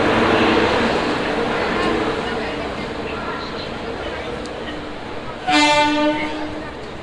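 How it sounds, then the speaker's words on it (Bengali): A train rumbles steadily along the tracks, pulling out of Santragachi station, and a loud horn blares near the end over the clatter. "আমাদের ট্রেনটি কিন্তু সাঁতরাগাছি থেকে ছেড়ে এখন পরের স্টেশনের দিকে রওনা করছে"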